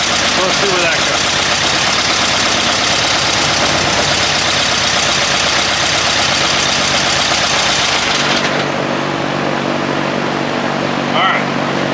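Car engine refiring after a distributor swap and settling into a steady, loud, close idle, continuous rumble with a slight knock, cutting down to a quieter idle near the end.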